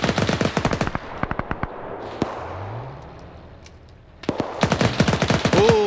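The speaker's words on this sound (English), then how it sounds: "Naders finds Immortal and sprays him down with that PPSH" A PPSh submachine gun sprays in a WW2 video game, firing rapid bursts of sharp cracks, first a long stream, then a short pause and single shots, then another loud rattling burst.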